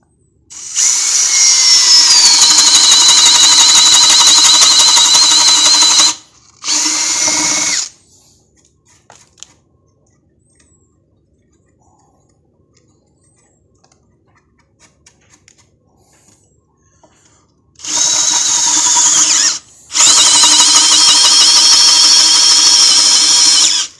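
A power drill bores through wood with a 32 mm auger bit at its lowest speed setting, whining loudly in two long bursts with short breaks, then falling silent before spinning up again in two more sustained runs.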